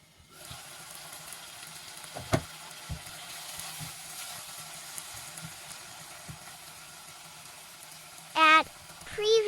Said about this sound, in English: In medium heat, cook for 10 minutes.